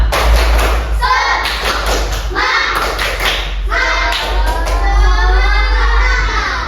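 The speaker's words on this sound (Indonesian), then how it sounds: "Coba kita tepuk semangat dulu." Group of students in a classroom doing rhythmic cheer clapping, a "tepuk semangat" routine, with bursts of claps and thuds mixed with loud children's voices chanting along.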